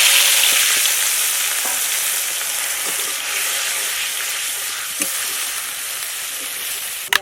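Spice-mixed water poured into leftover hot oil in a wok after frying brinjal, giving a loud, steady broadband sizzle that holds for several seconds with a few faint clinks, fading slightly toward the end.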